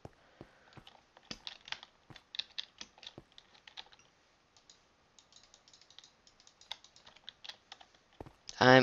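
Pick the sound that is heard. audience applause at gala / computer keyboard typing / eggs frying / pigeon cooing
computer keyboard typing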